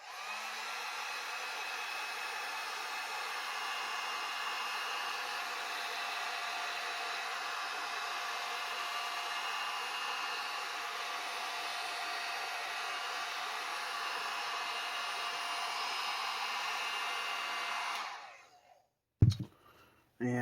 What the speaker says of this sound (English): the first thing I'm going to do is heat them up with my heat gun and put a little bit of curve into it